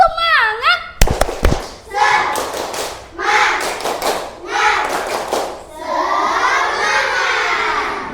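A group doing a rhythmic spirit clap and cheer: a quick burst of sharp hand claps, then repeated bursts of children's shouting voices in rhythmic chanting, ending in a sustained collective cheer.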